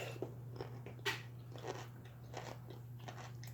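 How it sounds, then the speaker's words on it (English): Someone bites and chews a crunchy pickle up close, with a sharp crunch near the start followed by a string of wet, crackly chewing crunches at an irregular pace. "That's one crunchy pickle."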